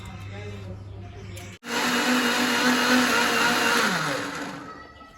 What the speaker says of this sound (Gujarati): ટોમેટા કમ્પ્લીટ કપાઈ રહી એટલે પછી મિક્સર ઉપર ગ્રેવી કરી દેવું આપણે.